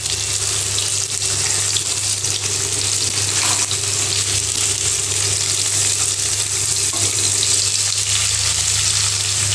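Pieces of katla fish fry in oil in a pan, giving a steady, loud, even sizzle that runs the whole time with no break, while a faint watery hiss sits beneath it.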